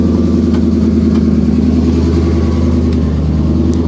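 A car's exhaust rumbles close by at an auction yard, with the exhaust venting from under the hood rather than out the back; the engine holds a loud, steady, throaty idle with no clear revs.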